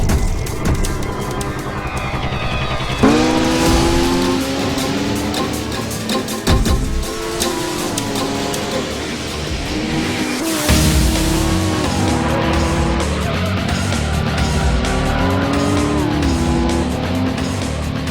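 Race cars in the PlayStation 2 game Gran Turismo 3 A-Spec: loud, continuous engine roar rising and falling through gear changes, with tire squeals and skids over the racing, and no voices.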